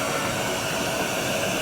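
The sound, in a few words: vacuum running on JOOLTOOL polishing machine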